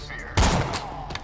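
A short burst of gunfire from a gun in Borderlands The Pre-Sequel cracks out loudly, then trails into scattered fainter shots over a busy game background.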